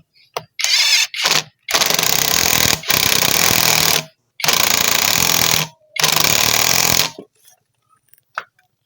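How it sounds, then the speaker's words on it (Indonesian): A power tool whirs in several loud sustained bursts separated by short pauses, close up, tightening bolts on a Honda Supra X 125 motorcycle, with brief clanks and knocks between runs. "Tinggal kita pasang bautnya. Oke, kita kencangkan."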